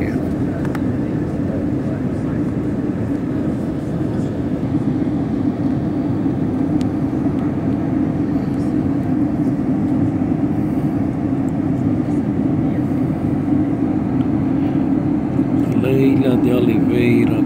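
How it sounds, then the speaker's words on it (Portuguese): Airliner cabin during landing at Brasília airport, a steady loud low engine and airflow roar throughout, with faint clicks and rattles near the end. "Estamos pousando aqui no aeroporto aqui."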